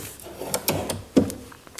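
A file drawer slides along metal drawer slides, a brief rubbing glide broken by a few soft knocks and clunks, close by and fairly quiet.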